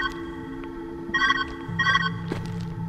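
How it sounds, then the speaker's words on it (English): Two bursts of a ringing telephone bell in the puzzle game Viewfinder, tonal and somewhat distorted, over a steady electronic hum. "Where's that ringing coming from?"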